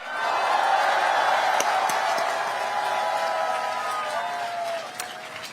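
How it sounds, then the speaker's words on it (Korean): A crowd at an outdoor political rally in Ulsan claps and cheers in a broad continuous wash of applause, loud at first and gradually thinning, with a voice over loudspeakers faintly mixed in. "우리 현역 아닌 분들한테 더 박수 많이 쳐주세요"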